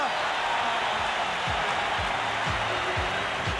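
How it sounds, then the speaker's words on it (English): Basketball arena crowd at a 1981 Eastern Conference Finals Game 7, 76ers at Celtics in Boston, roaring in a dense, continuous wash of cheering and applause while a commentator talks over it. "there's that crowd"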